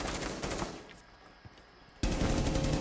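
Automatic gunfire in the video game Rainbow Six: a loud burst of rapid shots, a quieter gap with a single distant pop, then another heavy sustained burst close up.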